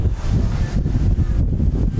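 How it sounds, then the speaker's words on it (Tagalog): Steady wind buffeting the microphone outdoors at Caliraya Resort Club in Laguna, a constant low rumble filling the whole stretch without letup. "Medyo mahangin ngayon."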